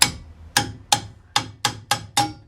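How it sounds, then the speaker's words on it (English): Seven sharp metallic hammer strikes ring out one after another during a handbrake shoe repair on a Ford Capri, each blow loud and close with a brief ringing tail. "Where's my hammer?"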